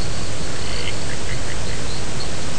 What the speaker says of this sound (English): here is where there's this frog call